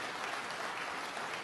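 Steady, dense applause from a crowd at a 2016 election campaign event, an unbroken wash of clapping throughout with no voices rising above it.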